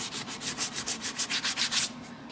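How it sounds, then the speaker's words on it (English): Hand sanding of a wooden P-bass body in final finishing, about a dozen rhythmic back-and-forth rasping strokes, close and steady, then stopping, with no talk. "So I'm gonna get in here and do final sanding, of course."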